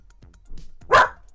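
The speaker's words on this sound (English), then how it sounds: "Molly, bark if you like Quake" A pet dog gives one sharp, close bark after a few faint soft sounds in an otherwise quiet room.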